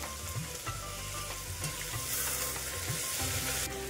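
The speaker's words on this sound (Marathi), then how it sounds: "आता कांदा आपल्याला छान ब्राऊन रंगावरती परतून घ्यायचा आहे।" Onion frying in a pan with cumin, garlic and mustard seeds, a steady close sizzle with faint scraping stirs throughout.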